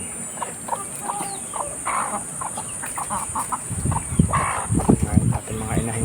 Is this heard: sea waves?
no